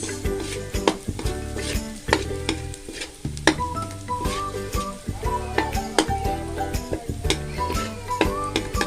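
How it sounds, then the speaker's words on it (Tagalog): Garlic and onion sautéing in a pan for a squid dish, stirred steadily with a utensil: close, continuous sizzling broken by repeated scraping strokes against the pan, with no talking. "Haluin lang natin hanggang sa lumabas yung pinakang aroma ng bawang at"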